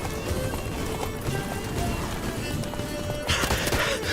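Roach, the horse in The Witcher 3, gallops at a steady pace with rapid, continuous hoofbeats under constant game ambience, and a brief burst of noise near the end.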